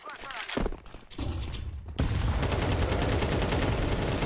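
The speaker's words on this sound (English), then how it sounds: "Throwing a flashbang!" A flashbang thrown in Counter-Strike 2 bursts partway through, a loud broadband blast that gives way to a dense sustained ringing wash, with a voice talking over the opening.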